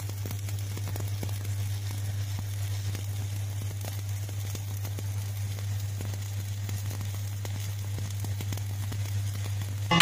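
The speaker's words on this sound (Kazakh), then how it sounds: "Яғни дәнекерлейміз." Metal being arc welded on a flat work surface, giving a steady crackling, sizzling hiss that runs without a break over a constant low electrical hum, with no talking.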